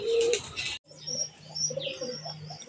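Dove cooing at close range: a short low coo, a brief silence, then steady soft cooing with light chirps above it.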